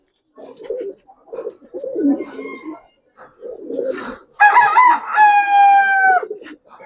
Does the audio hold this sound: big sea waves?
no